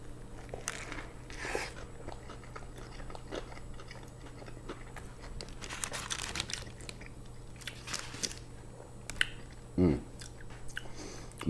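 Onion rings and an A&W Beyond Meat burger are bitten and chewed close to the mic, with repeated wet crunches and squishy mastication in an irregular rhythm, occasionally louder bites.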